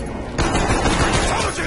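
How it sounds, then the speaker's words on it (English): A short, dense burst of rapid gunfire while shooting a zombie in a Zombies video game, loud and close, sustained through the clip after a quieter start. "Shoot the zombie!"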